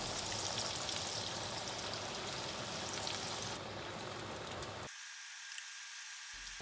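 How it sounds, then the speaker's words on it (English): Breaded aubergine and courgette slices coated in flour, egg and panko frying in vegetable oil in a pan, a steady dense hiss and sizzle heard up close with no talking, stopping abruptly near the end. "Heat some vegetable oil in a pan and drop them in."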